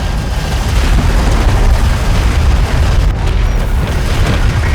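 Artillery fire support pounding a position in the desert strategy game Homeworld: Deserts of Kharak, loud continuous booming explosions layered into a heavy rumbling barrage.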